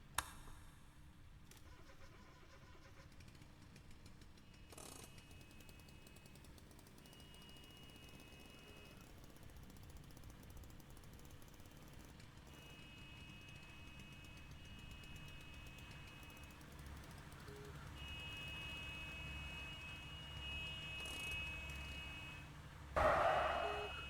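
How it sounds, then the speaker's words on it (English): A car engine cranks and catches in the driving game Jalopy: a long quiet stretch with a faint low hum and a few thin tones gives way to a sudden loud engine start right at the end. "I guess I have to turn the car on before I can take it out of park"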